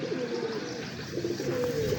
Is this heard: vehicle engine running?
no